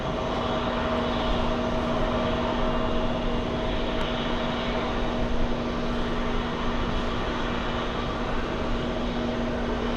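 A High Sky airliner bound for Romania at JFK airport gives off a steady, even jet engine roar with a constant hum underneath, holding at moderate loudness for the whole span with no voices.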